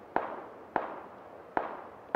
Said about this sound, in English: A sniper.